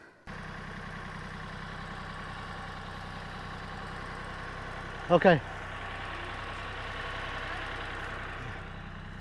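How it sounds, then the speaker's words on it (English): A tractor idles steadily at an orchard-planting job, a continuous low engine rumble running the whole time beneath brief spoken instructions nearby. "Bring the tractor up."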